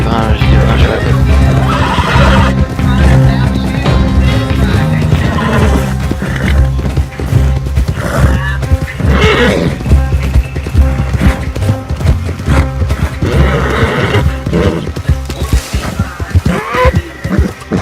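A horse neighs and its hooves clip-clop loudly in the Red Dead Online video game, amid dense game music, effects and voices that run without a break.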